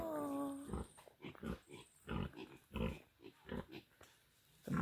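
Pigs on a pig farm in the Dominican Republic grunt and snort close by in a steady run of short rough grunts, with one squeal at the start.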